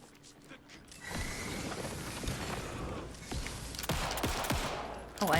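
Gunfire in the video game Alan Wake 2 on Nightmare difficulty: three sharp shots crack out at intervals over background game ambience and mechanical clicks, with no speech.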